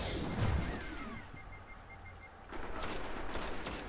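Gunfire from newly acquired weapons in the video game Destiny, a dense burst of game shots early on, a quieter stretch, then a fresh rattling volley near the end, with no talk.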